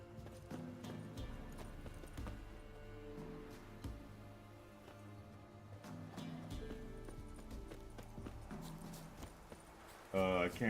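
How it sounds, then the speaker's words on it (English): The horse Roach galloping in The Witcher 3, a continuous rhythmic clip-clop of hooves running, moderately loud, with game music or other sounds underneath and a louder burst near the end. "I can't call my horse?"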